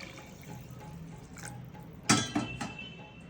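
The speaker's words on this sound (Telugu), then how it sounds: "మొదట రైస్ని 2 సార్లు కడుక్కుని నీళ్లు పోసి అరగంట నాననివ్వండి" Basmati rice is rinsed in water in a kitchen bowl: quiet sloshing and faint drips, then a few sharp clinks and splashes near the end, with no talking.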